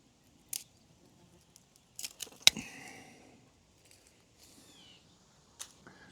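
Garden shears snipping dead sprigs low on a plant outdoors: a few sharp, separate clicks and snips spaced over several seconds, with quiet pauses between the cuts.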